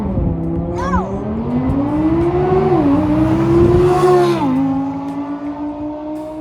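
A 2024 Audi RS e-tron GT electric car accelerates hard in a drag race, its loud tonal motor whine climbing steadily in pitch with a brief dip midway, close and continuous, no talking.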